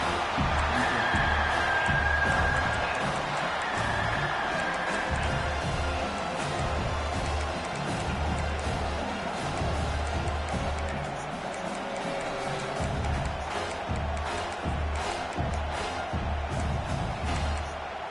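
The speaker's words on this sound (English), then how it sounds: "this crowd is getting behind this defense" A football stadium crowd roars in a steady, far-reaching wash of noise during a big third down in the red zone, with commentators talking over it throughout.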